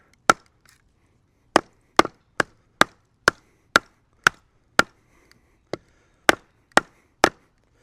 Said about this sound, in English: this is hardwood, so it's going to be difficult to baton through